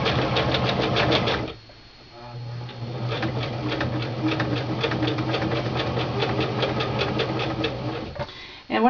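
Sewing machine zigzag stitching a Christmas stocking, a steady rapid mechanical whir with dense repeating stitch clicks, briefly pausing near the start, then running continuously at close range.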